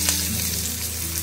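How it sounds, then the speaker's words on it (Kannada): Chopped onions fry in hot oil for a pepper breadfruit stir-fry, giving a brief, close, steady sizzle with a light clink at the start. "ಈರುಳ್ಳಿ ಟ್ರಾನ್ಸ್ಪರೆಂಟ್ ಆಗೋವರೆಗೆ ಇದನ್ನು ಫ್ರೈ ಮಾಡಿಕೊಳ್ಬೇಕು."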